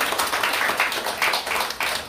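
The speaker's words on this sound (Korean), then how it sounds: "박수 치세요." Audience at a lecture forum in Seoul claps on cue, a short burst of dense, overlapping hand clapping that stays steady and moderately loud throughout.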